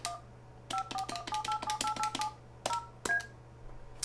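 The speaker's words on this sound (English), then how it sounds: "we're gonna dial into my system" Rapid sequences of telephone keypad DTMF tones dialing a number to call into a FreePBX phone system, about a dozen clean beeps in quick runs with short pauses, over a steady low hum and no talking.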